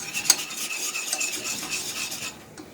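A utensil stirs flour-and-fat roux for turkey gravy in a pan, giving a close, continuous soft scraping and gentle sizzle with one sharper clink near the start, fading at the end.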